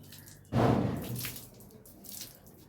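Hands being washed under running water from a tap, a sudden gush of water that splashes steadily and then trails off into softer trickling and dripping, close by with no talking.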